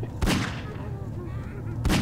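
Two loud, close gunshots about a second and a half apart ring out in the horror shooter Nightmare House 2, each with a deep booming tail.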